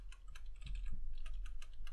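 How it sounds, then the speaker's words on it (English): Rapid, steady typing on a computer keyboard while coding a UICollectionView layout, with close, dense key clicks running continuously and no talk. "And let me just type"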